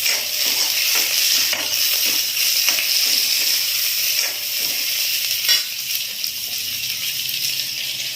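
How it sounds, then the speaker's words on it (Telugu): Tomatoes frying with browned onions in a pan, giving a steady broadband sizzle with soft stirring scrapes throughout, moderately loud and close, with no voices. "ఉల్లి కొంచెం ఎర్రగా వేగిన తర్వాత టమాటా వేసుకోవాలి"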